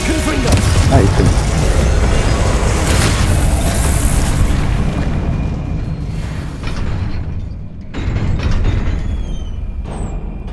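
Fiery Confringo blasting spells explode in combat in the Hogwarts Legacy game, loud booming bursts filling the first half, then fading to rumble before a few more sharp blasts near the end.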